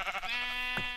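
A sheep in the video game Minecraft gives a single close, wavering bleat with a short clipped sound near the end.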